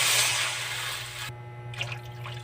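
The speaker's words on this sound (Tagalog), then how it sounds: "Naglagay lang tayo ng 4 na basong tubig." Water gushes and splashes steadily into a cooking pot for Filipino sinigang soup, then cuts off, leaving a low hum and faint drips; no talking.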